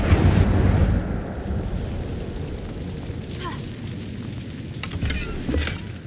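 The Incendio fire spell in the video game Hogwarts Legacy erupts in a loud whooshing burst at the start, then settles into a crackling, rumbling fire effect with a few sharp pops.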